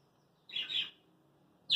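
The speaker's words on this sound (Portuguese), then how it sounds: "Então agora são 14 aves aqui na horta. Temos 12 periquitos australianos" Pet budgerigars and canaries, kept in a garden aviary, give faint, brief chirps: one short bright twitter, a pause, then another begins, over quiet background.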